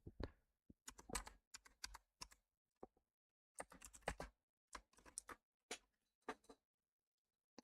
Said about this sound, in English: Where were you just typing to?